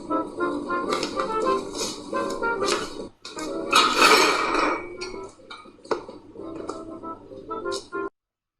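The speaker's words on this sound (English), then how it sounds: "he pulls the tablecloth from the first dishes" Stacked dishes clatter and rattle as a tablecloth is yanked out from under them, a burst of clinking crockery and glass after a pause, with loud knocks and scattered clinks trailing off.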